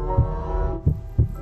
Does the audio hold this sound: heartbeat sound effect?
yes